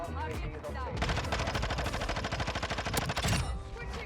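Rapid automatic fire from a Vaznev-9K in Modern Warfare 2 rattles in a fast, steady burst of sharp shots lasting a few seconds, loud and close, with a player's voice heard around it.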